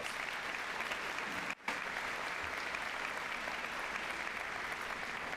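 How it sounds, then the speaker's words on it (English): A crowd applauds at a high school graduation ceremony as the school principals stand, a dense, even wash of clapping with one abrupt brief dropout midway before it resumes steadily. "Give them a round of applause."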